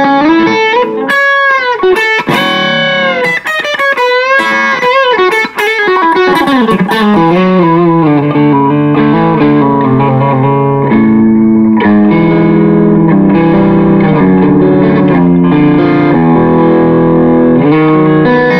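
Electric guitar through a Zoom G2 Four multi-effects unit, heavily processed with distortion, no delay or reverb, fast picked runs giving way to sustained, ringing chords, loud and continuous with no talking.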